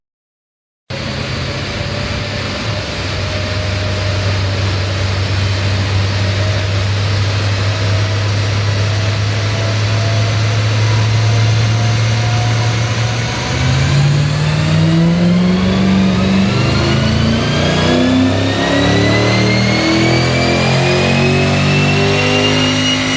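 A 2006 Volvo S40 2.4 making about 297 horsepower on a dyno: a loud, steady engine drone holds, then climbs into a rising, straining rev toward the end.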